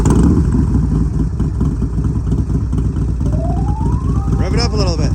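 A motorcycle is started: a rising starter whine climbs steadily, then the engine catches with a loud, sweeping burst near the end over a constant rumbling background.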